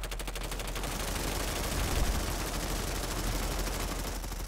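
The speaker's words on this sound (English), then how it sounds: "everybody shoot at the air, shoot in the air right now" A crowd of players in Planetside 2 fires into the air at once, a dense, continuous fusillade of rapid overlapping gunshots with no speech.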